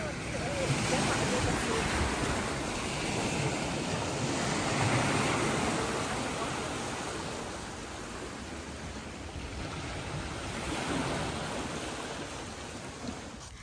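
Sea waves wash continuously onto the shore, a steady surging roar that swells and eases, with wind noise on the microphone.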